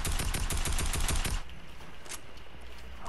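Rapid automatic gunfire from a no-recoil, no-bloom weapon in Fortnite, a dense burst of loud, evenly spaced shots lasting over a second before cutting off into quieter game ambience.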